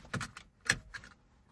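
Seatbelt buckle clicks and latches inside a Fisker Ocean electric car, a few close metallic snaps and rustles in short bursts, with no talking.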